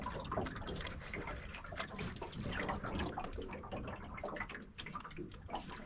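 Swift river water rushing past while catfish fishing, a steady broadband wash with splashy bursts near the start, heard close and continuous with no talk.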